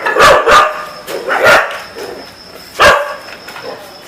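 Several dogs bark in short sharp bursts, a quick pair, then another, then a single loud bark, close by and outdoors, with a faint steady whine in the background.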